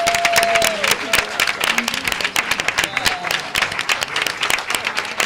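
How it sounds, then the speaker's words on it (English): Audience at a school district board of education meeting applauding honorees, dense sustained clapping close and loud, with brief voices and a whistle-like tone rising over it early on. "Let's give them another round of applause."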